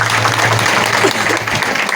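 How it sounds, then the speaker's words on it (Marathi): Dense, steady applause from a kirtan audience at a harinam saptah gathering at Shri Khatu Shyam Baba Sansthan, Bhadgaon Mayamba, a close wash of clapping that holds even for the whole stretch. "एकदा चांगल्या टाळ्या होऊ द्या"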